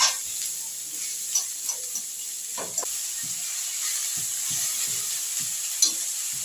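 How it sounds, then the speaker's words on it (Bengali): Onion softens in a pan over steady, fairly quiet frying hiss, with repeated light spatula knocks and scrapes as it is stirred. "পেঁয়াজটা এরকম একটু নাড়াচাড়া করতে করতে"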